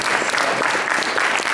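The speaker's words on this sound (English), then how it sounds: "applause?" Dense, steady audience applause fills a university lecture hall at an artists' talk, a brief burst of many hands clapping without voices.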